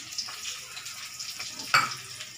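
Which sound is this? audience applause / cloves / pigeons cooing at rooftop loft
cloves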